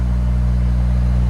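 A 2000 Honda S2000 2.0L with an exhaust fitted with Vibrant resonators idles close by with a deep, steady, low rumble, heard on its own without talk.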